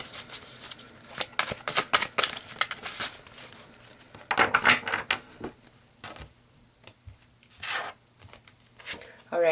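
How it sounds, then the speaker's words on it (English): Tarot cards are shuffled and pulled from the deck in close, irregular bursts of riffling and slapping, with a louder flurry partway through and quieter pauses between. "So let's pull some more cards"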